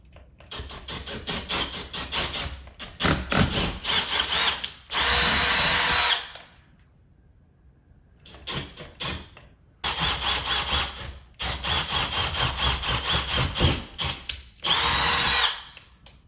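A power drill whirs in repeated bursts, revving and stopping between holes in drywall, with loud sustained runs and a quiet pause midway.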